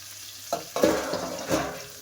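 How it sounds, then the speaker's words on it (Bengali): Bitter gourd and potato fry in a pan in a home kitchen. Three or four close scraping stirs break through a soft background sizzle, with no talking. "এই যে উচ্ছে আলু ভাজা করছি"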